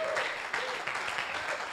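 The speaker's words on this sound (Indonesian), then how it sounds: "Tepuk tangan yang meriah bagi Tuhan." A church congregation applauding after a sermon, a steady, full burst of clapping from many hands throughout, moderately loud with a few faint voices mixed in.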